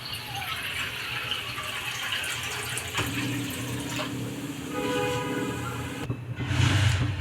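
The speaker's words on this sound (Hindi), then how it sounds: "इसी कटोरी से हम 2 कटोरी पानी डालेंगे।" Water pours from a bowl into a pan while sabudana vada is being made, a steady splashing and filling sound that runs for several seconds and shifts in tone partway through, close and without talk.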